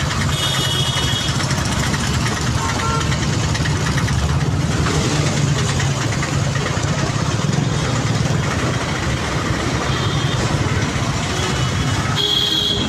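Tractor engines idle at the Panipat toll plaza as farmers gather with tractor-trolleys, a dense continuous low rumble that stays steady and loud throughout with mixed crowd and traffic noise.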